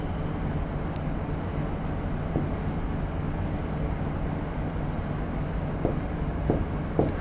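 Marker or chalk strokes scratch across a board during a signals and systems lecture, a run of faint scratchy drawing sounds with a few short taps near the end, under a steady room hum.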